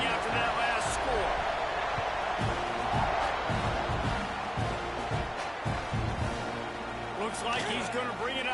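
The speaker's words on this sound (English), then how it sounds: "this crowd is buzzing after that last score" A stadium crowd in an NCAA college football video game keeps up a constant, moderately loud buzz of murmuring and scattered shouts, with an announcer talking over it.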